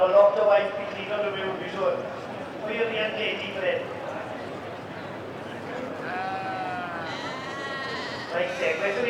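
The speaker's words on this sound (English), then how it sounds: "this is a South Wales mountain sheep" A South Wales mountain sheep bleats several times in quick succession at an outdoor agricultural show, its wavering cries close and clear over a busy crowd murmur.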